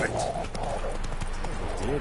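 Roach, the horse in The Witcher 3 video game, gallops with rapid, close hoofbeats while someone talks over them.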